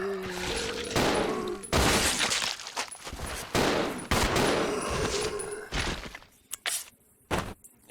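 Loud bursts of shotgun fire and gameplay combat noise from the video game Resident Evil 0, with several sharp blasts and impacts in irregular succession.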